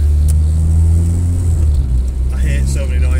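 Honda Civic EG with an H22 swap, heard from inside while driving: a steady low engine drone and road rumble run throughout, with faint rattles and interior noises on top.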